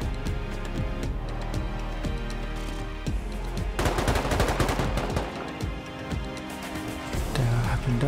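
A gunfight in the video game Rust with an AK: continuous rapid automatic fire and scattered shots rattle throughout, under a steady background bed, with a denser burst midway.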